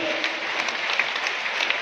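Audience at a Prajapati student camp in Sumerpur clapping for their parents, a dense, steady wash of applause throughout with no break.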